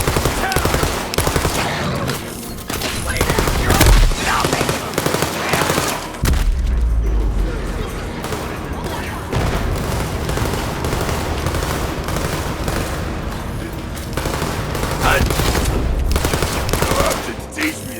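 Gunfire in the Borderlands 3 Bounty of Blood DLC, dense rapid bursts and overlapping shots with occasional booms, loud and continuous for the whole stretch, with faint voices mixed in.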